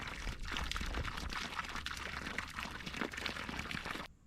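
Water from a garden hose rushes through drip irrigation tubing with a steady, close splashing flow that cuts off abruptly at the end.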